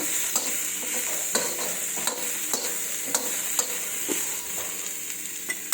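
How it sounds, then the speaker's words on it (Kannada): Frying in a pan on a home gas stove, a steady close sizzle broken by regular scraping stirs at roughly one-second intervals, with no talking over it. "ಫ್ರೈ ಮಾಡ್ಕೊಳ್ಳೋಣ ಇದನ್ನು ಸ್ವಲ್ಪ ಹುರ್ಕೊಂಡ್ರೆ ಸಾಕು"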